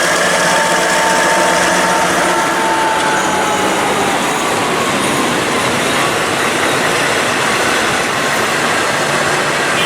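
Steam locomotive train 901 rumbles steadily past Chitralada station at close range, a continuous loud roar of wheels and rails with faint squeals, no voices.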